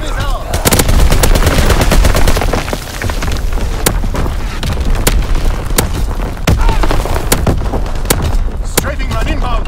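Strafing-run gunfire in Call of Duty WWII: loud, rapid machine-gun bursts and sharp cracks pound continuously, with booming impacts mixed in and dense battle noise throughout.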